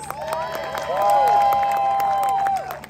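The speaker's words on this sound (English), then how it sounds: "Let's give him a round of applause." An outdoor crowd at a St. Patrick's Day parade in Queens claps and cheers, with quick scattered claps, crowd voices and a sustained high cheering tone that swells in the middle.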